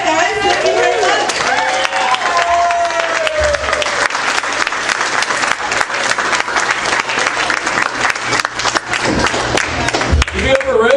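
A comedy club audience claps loudly and steadily after a comedian finishes a set, the applause dense and sustained throughout, with some cheering and chatter mixed in and a host's voice over the crowd.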